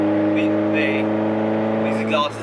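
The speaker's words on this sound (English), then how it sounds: "These exhausts are buzzy." Lotus Exige running on its stock exhaust, giving off a steady, buzzy, strongly tonal drone that holds at an even pitch and loudness throughout.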